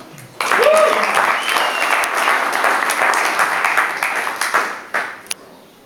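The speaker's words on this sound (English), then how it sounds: "give them a warm round of applause" Audience applause for event sponsors at a Crisis Camp gathering, a sustained burst of clapping from a crowd with a voice or two calling out early, then tapering with a few scattered final claps.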